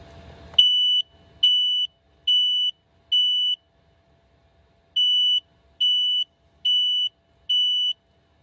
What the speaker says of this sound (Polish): przy takim pisku, nawet jak będziecie nabombieni po imprezie, to się obudzicie